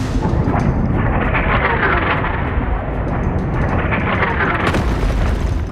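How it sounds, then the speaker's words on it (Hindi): A torpedo launch under ice sets off a loud, continuous roar of deep rumbling and booming that swells and surges for several seconds, with no speech over it. "टॉर्पीडो लॉन्च कर दो।"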